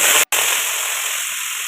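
Loud, steady hissing sizzle of chopped leafy greens dropped into hot oil, with a brief break near the start before the frying continues evenly.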